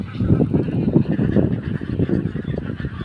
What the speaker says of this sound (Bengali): আপনাদের একটা জিনিস দেখাই যে হচ্ছে সাদা হাঁস